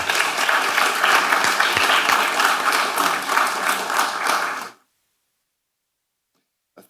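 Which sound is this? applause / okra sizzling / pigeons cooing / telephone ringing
applause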